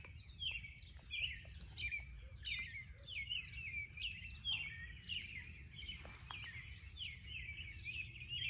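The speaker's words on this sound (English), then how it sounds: "I don't know if you can hear, but there's tons of birds." Birds chirp repeatedly outdoors in quick, high, descending calls, moderately near, over a soft low background hum.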